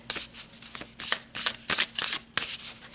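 Tarot cards riffle and slap together in a run of quick shuffling bursts, with sharp papery flicks as cards are pulled, close and fairly quiet, with no talking.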